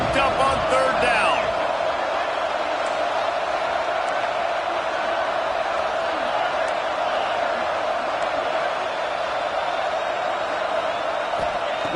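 Stadium crowd noise from the NCAA 25 college football video game, a steady roar of cheering and whooping on third down that holds level throughout, under faint background play sounds.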